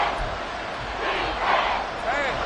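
Stadium crowd at an American football game roaring in a dense, sustained wash of voices that swells and surges, loud and continuous throughout with individual shouts poking through.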